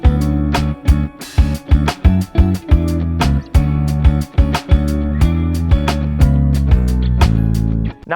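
A neo soul guitar riff with seventh-chord shell voicings, played close and clean as a syncopated run of plucked chords separated by short muted gaps, with no voices.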